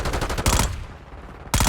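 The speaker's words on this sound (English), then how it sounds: "You're getting shot by more than one person, you're more likely gonna die because you got multiple bullets flying at you" Call of Duty multiplayer gunfire in a Search & Destroy match: loud, close bursts of rapid automatic fire, briefly easing before another burst cuts in.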